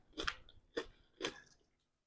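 Someone chews home-cooked meat from a meal of roast duck, ribs and potatoes, three moist crunchy bites spaced evenly, close and fairly quiet with no talk.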